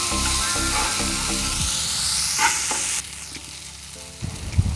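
Drumsticks with rock salt fry in a pan for sambar, giving a steady, close sizzle with stirring scrapes that drops noticeably quieter partway through, then a few soft clinks near the end.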